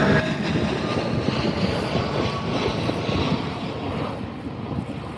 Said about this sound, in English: Beautiful aircraft. Second biggest version of Dreamliner.